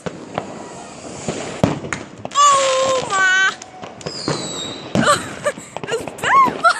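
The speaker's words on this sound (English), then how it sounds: "It's bare fireworks!" New Year fireworks burst around nearby houses, sharp cracks and booms scattered across the clip with whistling, crackling rockets in between, while people shout excitedly close by.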